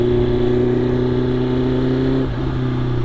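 A motorcycle engine idles high and then revs, a strong steady buzz held close and loud that dips briefly as the throttle changes near the end, with no talk over it.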